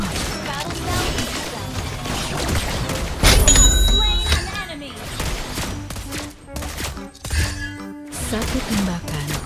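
Sniper shots from Lesley in the mobile game Mobile Legends fire among busy battle effects, with sharp bursts, a heavy boom near the middle, metallic clinks and dings, and game voice lines.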